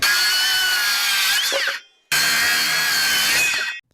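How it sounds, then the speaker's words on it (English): A miter saw cuts slots into a wooden stair stringer, two loud close whining passes of about two seconds each with a short gap between, the blade winding down at the end of each. "Slots for each step are carefully cut using a miter saw, then refined with woodworking chisels to ensure perfect fits."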